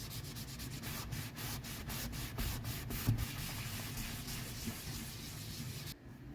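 Atom Wax finish rubbed by hand onto a leather belt, a steady close scuffing and rubbing with faint rhythmic strokes, continuous and fairly quiet before cutting off near the end.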